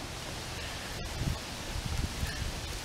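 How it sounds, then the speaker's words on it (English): Wind blows outdoors and buffets the microphone as a steady, loud, low rumbling roar with gusty swells throughout. "the wind is kind of noisy out here"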